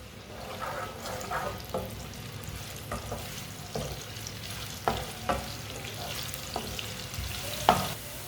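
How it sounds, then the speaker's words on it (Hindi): Finely chopped onions brown in oil with a steady close sizzle, broken by occasional taps and scrapes of a spoon stirring the pan, no talk. "थोड़ा सा प्याज डालेंगे बारीक कटा हुआ। प्याज को ब्राउन कर लेंगे।"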